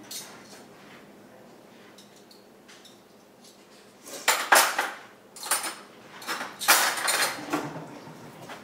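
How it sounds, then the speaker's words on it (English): Rummaging through metal utensils for a measuring spoon, with a quiet start and then bursts of loud clinking and rattling cutlery close by. "I've got to get out my measuring spoon"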